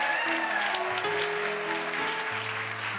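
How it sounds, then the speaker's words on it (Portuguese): Studio audience on a TV talk show applauding a welcomed guest, a broad wash of clapping layered over sustained musical tones from the show's band. "Todos os aplausos."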